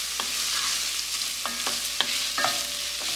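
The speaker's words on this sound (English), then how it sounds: "I'm gonna add those to my butter. You want to keep your eye on them." Fiddleheads sweat in melted butter in a pan, giving a soft steady sizzle with a few light clinks and scrapes of a utensil stirring, fairly close and with no talking.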